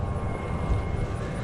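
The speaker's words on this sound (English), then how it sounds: "And there's a lot of planes today." Airplanes pass overhead outdoors near high water and wet grass, a steady low droning rumble of engines heard at a distance with no one speaking.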